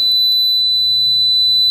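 Loud, continuous high-pitched beep from a continuity tester probing the wires of a dirt bike wiring harness, sustained unbroken throughout with faint handling noise.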